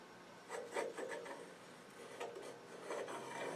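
Scribing a 4-inch circle on a square of wood before bandsaw cutting, heard as a steady run of soft scratchy rubbing strokes, fairly quiet and close, with no voices.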